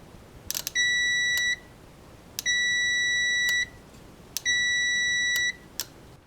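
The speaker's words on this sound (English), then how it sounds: "that is going to give us continuity that we can read with our multimeter" A multimeter sounds three steady continuity beeps, each lasting under a second, while probes test a motorcycle relay, with faint clicks of probe contact before and after each tone and no talking.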